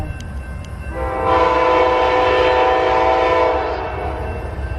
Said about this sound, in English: looks like Amtrak is coming